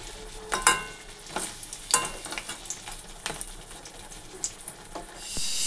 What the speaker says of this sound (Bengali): আর বড়া ভাজাও করে নিচ্ছি।